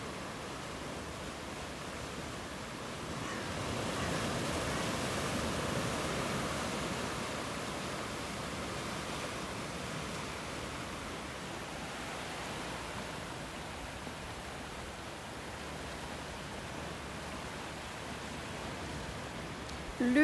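Ocean waves wash onto a beach at Audierne in Brittany as a steady, soft roar of surf, swelling and easing gently with no voices.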